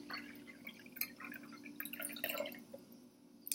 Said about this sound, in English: So there's 600 mils of water going into this mother elixir.